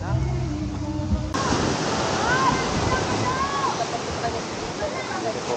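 Large waves crash and wash continuously on a shore during a fishing and camping trip, a loud broad rushing roar that follows a brief stretch with a voice at the start.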